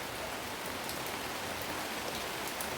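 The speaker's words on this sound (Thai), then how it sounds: "มาชมฝนกันนะคะเพื่อน ๆที่ทางเหนือนะคะ ฝนตกอีกแล้ว" Steady rain falls on a dark, stormy day in northern Thailand, a constant even hiss of drops with no voices and no pauses throughout.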